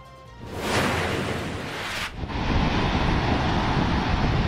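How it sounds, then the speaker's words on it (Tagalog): Strong surf and gusting wind batter the coast of Palanan, Isabela during Typhoon Marce, with a steady roar of waves and wind buffeting the microphone that grows louder after a brief dip midway. "Malakas na alon at hangin ang nararanasan sa coastal town ng Palanan, Isabela."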